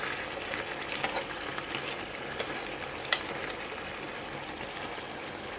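Chicken adobo fries in the oil released from the chicken, giving a steady close crackle and sizzle with a few sharper pops, and no one speaking.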